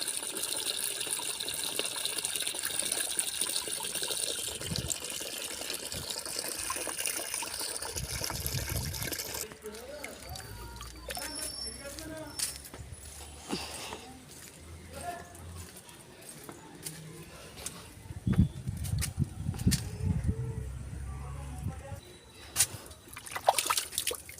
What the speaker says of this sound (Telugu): నీళ్ళు వేయడానికి నీళ్ళు పడుతున్నానండి ట్యాప్లో